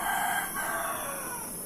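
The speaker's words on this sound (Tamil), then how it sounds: "இந்த நேரத்தில் கோழி குக்குடு கூன்னு கத்தின்னு இருக்குது." A rooster crows at night in one drawn-out call, slightly distant, against a quiet steady background hiss.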